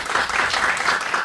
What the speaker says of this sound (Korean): 우리 1년 동안 수고했다고 박수 한번.